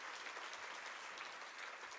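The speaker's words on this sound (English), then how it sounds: "Let's give these ladies a round of applause." Crowd at a Habitat for Humanity Women Build breakfast event applauding the committee, a steady wash of clapping hands, moderately distant, with no speech over it.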